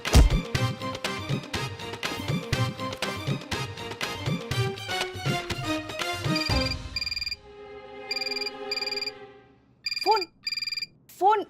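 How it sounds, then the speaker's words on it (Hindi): A telephone rings in a scene from the Hindi TV drama Maddam Sir, entering over fading rhythmic music, its bright electronic trills repeating in short bursts, near and clear, with brief rising tones between rings. "फोन बज रहा है"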